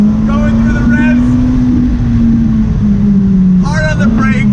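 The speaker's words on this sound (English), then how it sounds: "Going through the revs." A 2019 McLaren 600LT's engine holds a steady, loud drone from inside the car, with the pitch rising and dipping slightly, while a voice talks over it.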